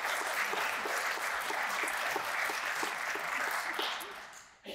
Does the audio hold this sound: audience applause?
yes